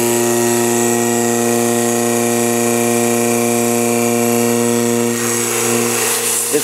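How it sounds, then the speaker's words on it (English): A Thomas rotary vane oil-free vacuum pump runs continuously up close, a loud steady droning hum with strong tonal whine, with slight rustling near the end. "Today we're looking at a Thomas rotary vane oil-free vacuum pump."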